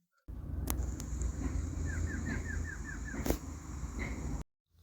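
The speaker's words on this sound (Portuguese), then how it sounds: "O exemplo que a gente tem é da choca da mata" Choca-da-mata bird calling with a quick series of about seven short, repeated descending notes in a row, fairly distant and faint over steady broadband wind and background noise, with a couple of sharp clicks.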